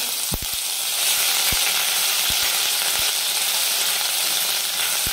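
Cumin seeds and ginger-garlic paste hit hot oil with mustard seeds already popping, making a steady bright sizzle broken by a few sharp pops and spatters, close and alone without any voices.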